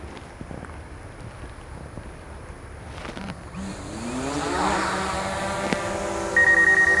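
A DJI Mavic 2 Pro drone auto-takes off, its motors spinning up from a quiet start into a rising, whining hum that grows louder and steadies near the microphone, with light wind noise.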